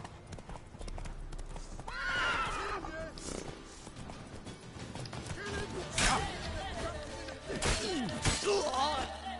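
Roach, Geralt's horse in The Witcher 3 on PS4, whinnies and neighs over a steady clip-clop of hooves, with a voice speaking in places.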